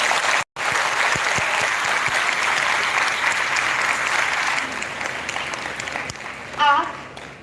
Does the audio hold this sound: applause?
yes